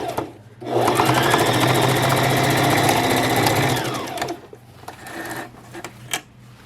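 A sewing machine runs steadily for about three seconds, back stitching a seam on a clutch wallet made of directional fabric, then stops, leaving a few faint handling clicks nearby.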